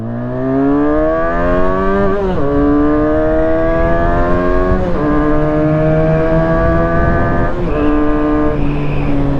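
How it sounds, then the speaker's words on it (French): Benelli BN302 2015 twin-cylinder 300 cc motorcycle engine revving hard while riding, pitch climbing steeply through three or four gear changes with brief dips between shifts, loud and continuous with no talk. "C'est une moto qui va donner vraiment vie à partir du 8000 tours minute."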